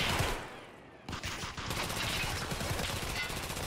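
Sustained rapid gunfire from a gunfight in Escape From Tarkov, dense crackling bursts that thin briefly near the start and then continue steadily, no voices over it.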